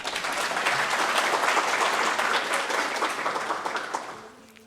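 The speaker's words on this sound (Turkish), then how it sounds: "Alkış" Studio audience at a Turkish general-knowledge quiz show bursts into steady, dense clapping that holds for several seconds and then tapers off near the end.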